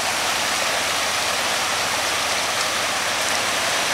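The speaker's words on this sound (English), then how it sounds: "Here comes Ellen, braving the rivers of Waipio. This is Hiilawi River in the old blazer" An old Blazer fords the Hiilawi River in Waipio Valley, with steady loud rushing and splashing water filling the whole clip and no voices.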